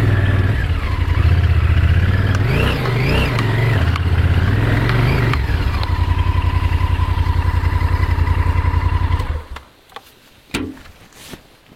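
A Honda Varadero 1000 motorcycle engine revs up and down several times, loud and close, then settles into a steady idle before cutting off and leaving a few faint clicks.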